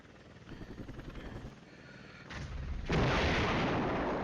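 Artillery fire in the Cold War wargame Flashpoint Campaigns: Cold War begins as a rhythmic run of pulsing thuds, swells, then breaks into a loud, sustained rumbling barrage that holds to the end, with no talking.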